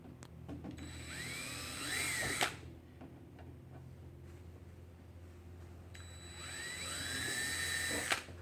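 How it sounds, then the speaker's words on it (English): A power drill bores holes in plastic in two short bursts, each with a whine that rises in pitch. Quieter handling noises and faint clicks fill the pause between them. "this is a different type of plastic, but just drilling some holes right across from each other"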